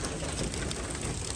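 Rain falls outside a Palram Canopia hybrid greenhouse as a faint, even patter and hiss that continues throughout, with no other clear sounds.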